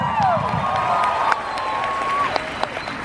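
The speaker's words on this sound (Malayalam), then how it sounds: "നല്ല ഒരു കൈയടി" A large audience claps and cheers steadily at a South Indian celebration stage event, a dense continuous roar of applause with a few shouts and whoops, with a voice briefly audible over it.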